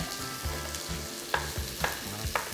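Beef frying in a pan for a simple holiday dish, a soft continuous sizzle with a few sharp clicks and scrapes, quiet and close, with no talking.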